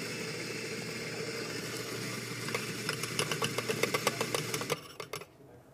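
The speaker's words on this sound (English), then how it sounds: "I'm going to purge this out by using, depending on the size of your grinder, maybe a double shot worth of coffee" An espresso grinder purges a double shot's worth of coffee through its grinding chamber and chute: a steady motor whir with a rapid burst of crackling grinding that cuts off near the end.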